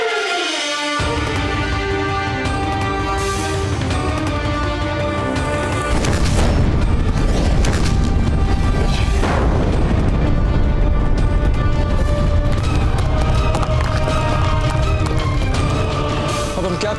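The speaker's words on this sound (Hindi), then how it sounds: "ये मुगल अपनी तोपों से हम पर गोले बरसाए जा रहे हैं" Cannons bombard a fort in a historical TV drama, with heavy booming blasts and explosions layered over a loud, dense dramatic music score that swells midway and keeps going throughout.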